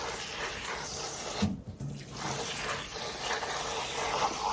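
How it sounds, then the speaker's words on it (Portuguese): Tap water pours steadily into a basin in a home kitchen, a continuous close hiss with a brief dip partway through before resuming at an even level. "Agora eu vou encher aqui com água."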